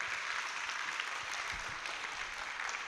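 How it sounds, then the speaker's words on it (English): An audience at a memorial day presentation for the victims of the Joola ferry disaster claps after a speech, a soft, distant, continuous patter of applause in a hall. "Vos applaudissements pour Habib"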